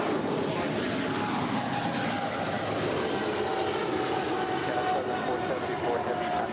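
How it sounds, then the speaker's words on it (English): A China Southern Cargo Boeing 777 freighter departs LAX for Guangzhou, its jet engines giving a steady, broadband roar that holds even and loud through the whole stretch with no break. "This is China Southern Cargo Flight 474 departing to Guangzhou. It's a Boeing 777 freighter."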